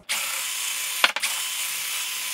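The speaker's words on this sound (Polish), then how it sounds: "Gdy już przewierciliśmy sobie to wiertłem ósemką, ucinamy nadmiar plastiku." A power drill with an 8 mm bit bores through plastic, a steady close whine lasting about two seconds with a brief rattling catch midway, no talk.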